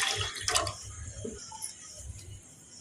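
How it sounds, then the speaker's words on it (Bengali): Two bowls of water are poured into a pot to make sugar syrup for kalo jam sweets, giving a faint, close splashing and trickling. "ওই বাটির মাপে আমি 2 বাটি জল দিয়ে দিচ্ছি।"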